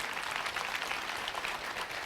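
An audience at a home care products presentation claps continuously, a dense, even patter of many hands sustained at moderate volume throughout.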